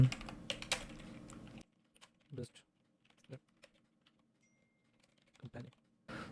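Keys on a computer keyboard are tapped sparsely during a website-building tutorial, a short busy burst at first, then scattered faint clicks and small clusters of keystrokes with quiet gaps between.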